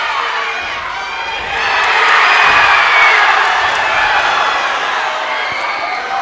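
A crowd at an MMA fight cheers and shouts loudly in an indoor arena, a sustained roar that swells midway and stays high to the end.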